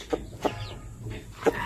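A Basto Jotako stag rooster, a young gamecock at breeding time, gives three short, sharp clucks spaced about a second apart, close by over a low steady background.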